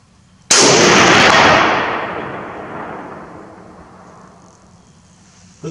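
A single loud, close rifle shot from a Finnish M39/43 sniper rifle cracks sharply and then rolls into a long decaying echo across open ground, with no talking.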